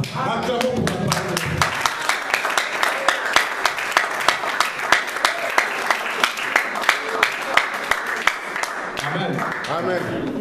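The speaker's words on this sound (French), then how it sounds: "Acclamons pour la parole." A church congregation claps together in a steady, dense rhythm, loud and close, with voices and cheers mixed into the applause throughout.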